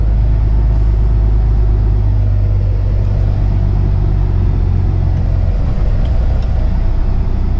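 An 80,000 lb Caterpillar 330 BL excavator drives along, its diesel engine giving a loud, steady low rumble throughout with no talk.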